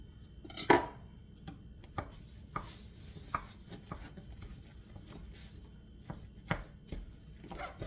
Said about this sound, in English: cut these pieces of butter into pieces